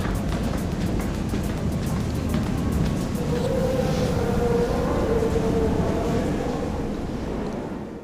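A Kyiv Metro train ride gives a steady, loud rolling rumble with rail noise, continuous throughout and fading slightly at the end, with no talking.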